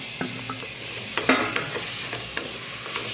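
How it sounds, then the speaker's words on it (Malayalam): Tomato and pepper powder are sautéed with garam masala in a pan, sizzling steadily while a spoon scrapes and taps against the pan in short strokes, close and clear. "ഒരു 1/2 ടീസ്പൂൺ പെപ്പർ പൗഡർ, ടൊമാറ്റോ കൂടി ചേർത്ത് വഴറ്റാം."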